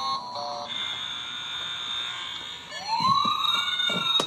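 A toy ride-on Power Wheels car's original electronic siren wails in steady high-pitched tones, then switches to a rising, sweeping pattern, close and fairly quiet.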